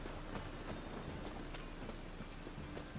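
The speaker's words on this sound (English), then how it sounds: "Raining again." Steady rain falling in the video game The Witcher 3: Wild Hunt, a soft continuous patter with scattered droplet ticks, faint and unbroken throughout.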